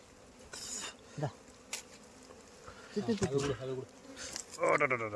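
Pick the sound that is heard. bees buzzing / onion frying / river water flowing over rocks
bees buzzing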